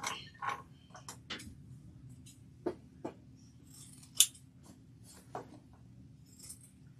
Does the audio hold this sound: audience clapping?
no